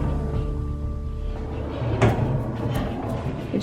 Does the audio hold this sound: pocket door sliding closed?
yes